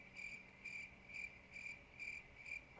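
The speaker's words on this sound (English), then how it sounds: "Insert cricket noise." Crickets chirp in a steady rhythm, about two bright trilling pulses per second, clear and fairly close against a quiet background.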